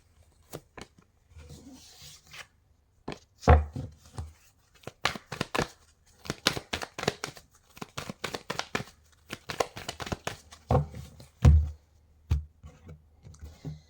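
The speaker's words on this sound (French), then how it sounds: "Je vais bien mélanger et je vais couper." A deck of tarot cards is shuffled and cut by hand, a close series of quick papery riffles, slaps and clicks in uneven bursts with short pauses between them, no speech.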